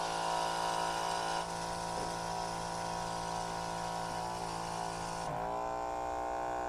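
A 12V pump motor driving a drip irrigation and mist system hums steadily with a bright, whining tone, then drops and shifts in pitch near the end as it cuts off.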